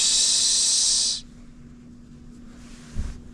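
Rotor cleaner spray hisses onto a Tektro mountain bike brake rotor in one loud, steady close burst of about a second. Quiet follows, then a soft thump.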